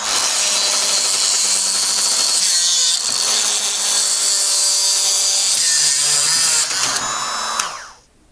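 A Dremel rotary tool spins fast and grinds through a metal wire hanger with a continuous high, whining, gritty roar that holds steady for several seconds and then winds down as the cut finishes.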